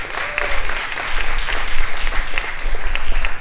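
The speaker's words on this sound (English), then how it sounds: "round of applause for that" An audience at a benefit cocktail auction bursts into sustained applause, dense clapping swelling and continuing strongly throughout, close and loud, with a few voices mixed into the crowd.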